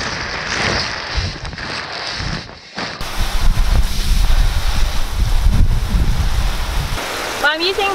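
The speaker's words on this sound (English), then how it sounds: "I'm using the hot horse shower to fill up the pool" A hot horse shower fills a paddling pool with water for ponies, giving a steady, close rushing spray that starts abruptly and runs continuously, with a brief squeaky sound near the end.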